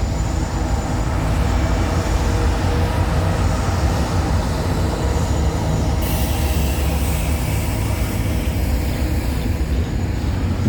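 A CN train, number 3005, pulls away at night at Milepost 23 on the York Subdivision, a loud, steady rumble of rolling wagons and wheels with faint squealing, continuous and close throughout.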